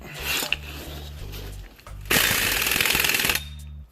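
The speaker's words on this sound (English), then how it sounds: "Now, I'll take my impact and let the impact do the work." An impact wrench tightens the axle nut on a Honda Accord during a wheel bearing replacement: a loud, rattling hammering burst lasting over a second, close up, after a lower mechanical hum and scraping.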